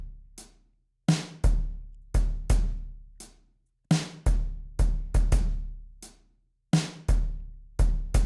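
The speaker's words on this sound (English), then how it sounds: "And then, along with that, some drums play." Heavy, punchy drums hammer out a loose beat in a hip-hop style track, with deep booming kicks and sharp hits ringing out in irregular bursts, each decaying into near silence before the next strike.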